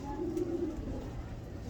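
A soft, low pigeon coo rolls briefly through a quiet background with faint murmuring.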